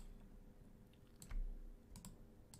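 A few faint computer keyboard key presses, scattered clicks in an otherwise quiet room.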